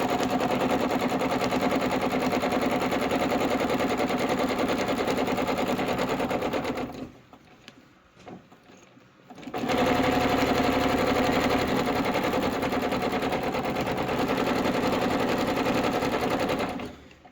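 A sewing machine stitching a quilting seam on a Christmas poinsettia quilt runs in a loud, steady, rapid whir, stops for about two seconds, then resumes running continuously to the end.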